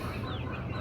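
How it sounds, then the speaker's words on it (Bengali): A flock of about 87 broiler chicks kept as a hobby, a dense continuous chorus of cheeping and peeping, close and steady throughout with no voices. "ব্রয়লার মুরগির বাচ্চা আছে"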